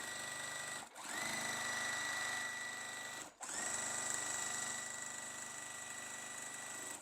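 A sewing machine stitches quilt fabric for a Mi Casa sampler quilt, whirring steadily and close by in two long runs, with brief pauses between them and no talking.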